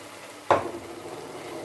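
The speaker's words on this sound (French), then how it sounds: "Je remue." A spoon stirs sautéed chicken gizzards with curry powder and ground garlic in a pan: one short, close scrape with a burst of sizzle, then a quieter frying hiss.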